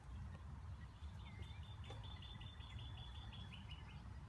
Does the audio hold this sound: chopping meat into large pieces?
no